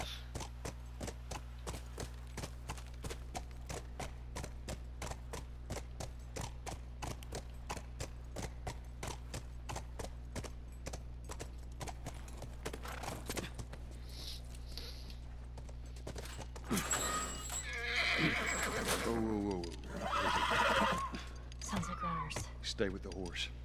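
Horse hooves in The Last of Us video game, a steady rhythmic clip-clop walking pace throughout, joined near the end by louder rustling and a whinny-like snort, with quiet voices in the background.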